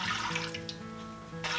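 Water pours from a tap into a pot on the stove for a pickling brine, a steady rushing stream with a rising tone as the pot fills, close and fairly loud.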